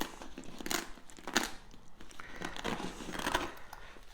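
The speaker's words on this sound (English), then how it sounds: "So the zips having been opened, we now just lift the lid" The lid of an Enduristan Sandstorm 4H tank bag, made of heavy-duty material, is lifted open after unzipping, giving close, rustling crinkles and a few sharper fabric scrapes.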